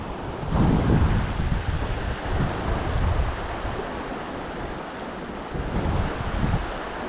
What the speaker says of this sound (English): That wind is not good.